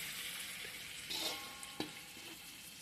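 Pitha frying in a pan gives a soft, steady sizzle with a few brief clinks and a light tap partway through, fairly quiet and close, with no voices.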